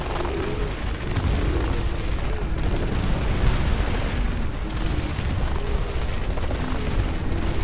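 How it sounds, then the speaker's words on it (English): Artillery barrage in the real-time strategy game Dust Front RTS, a dense, continuous rumble of heavy booms and blasts rolling on at steady loudness with no talk over it. "Try and see if I can get an artillery barrage into this facility."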